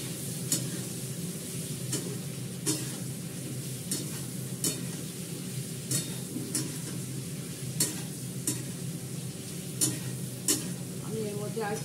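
Ginger paste, bay leaf and sugar sautéed in a pan, a steady sizzle broken by regular scraping knocks of a spoon stirring, roughly one every second or so, close and fairly quiet.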